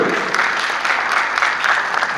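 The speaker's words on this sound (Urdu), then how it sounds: "ابھی جو تالیاں بجا رہے ہیں" An audience at a conference in the Expo Center, Lahore, Pakistan, claps in a steady, dense wash of applause that stays loud and even throughout.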